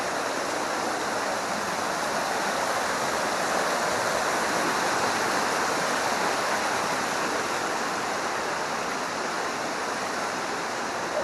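River water flows in a steady, broad rushing wash, constant and unbroken, with no voices over it.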